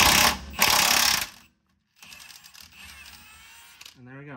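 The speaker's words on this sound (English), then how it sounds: "So I've got my impact, got a wrench on this side." Impact wrench loosening a 19 mm nut on a Lexus/Toyota rear control arm bolt, heard as two loud rattling bursts up close, then a pause and a softer whirring spin-down, with a brief voice at the end.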